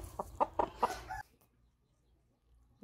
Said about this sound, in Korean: 청계 엄마닭 3호라고 이름 지었습니다.